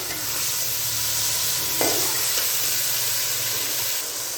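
Steady, loud sizzling of onion, green chillies and a tomato frying in a pan for bhindi masala, a dense hiss with a brief spoon scrape partway through.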